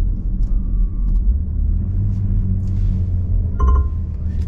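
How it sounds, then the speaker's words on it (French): A 3-litre six-cylinder car engine runs at idle after starting, producing a steady low rumble close by, with a brief higher mechanical whine and a few faint clicks partway through, and no voices. "là je viens de démarrer ce magnifique 6 cylindres, 3 litres"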